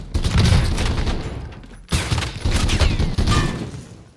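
Shotgun fire in Call of Duty: Warzone, loud booming blasts with a dense burst of shots and rattling mechanical clatter, broken by a short lull before another heavy volley.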